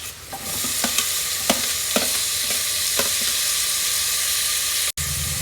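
Tomatoes fry in a hot pan for moong dal palak khichdi, a loud continuous sizzle close up with regular stirring taps every half second, cut by a brief gap near the end.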